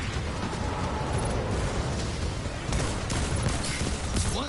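Hand cannon gunfire in the video game Destiny 2 forms a dense, continuous roar of shots and booming impacts. The firing is loud and sustained throughout, with no talking.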